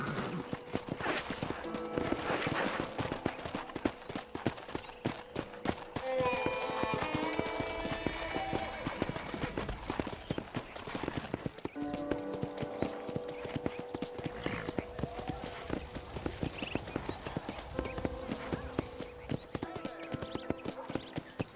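Continuous rhythmic clip-clop of horse hooves trotting along in the video game Red Dead Redemption, with voices talking over it and occasional other game sounds in the background.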